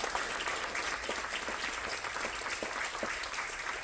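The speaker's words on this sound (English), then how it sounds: "let's give Eddie a big round of applause" An audience at a candidates' debate for US House District 16 in Ellenton gives a round of applause, a steady crowd of clapping hands that continues evenly throughout.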